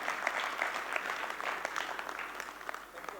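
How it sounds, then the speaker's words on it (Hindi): An audience at a family business talk claps in a sustained round of applause, dense and fairly even with scattered sharper claps. "जो लोग सोफा पे बैठे हैं उन्होंने ताली बजाई, राउंड में बैठे हैं उन्होंने बजाई"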